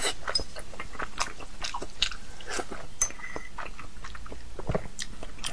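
Close, crisp bites and chewing of salmon fish, repeated irregularly across the stretch with small crunchy clicks and wet mouth noises, no talking.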